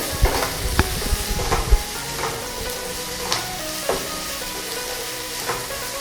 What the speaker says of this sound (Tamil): நம்ம ஏற்கனவே வதக்கி வச்சிருந்த சிக்கனை இதில் ஆட் பண்ணணும் நல்லா மிக்ஸ் பண்ணிவிட்டு